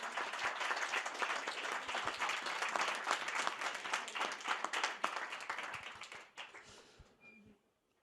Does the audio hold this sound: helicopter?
no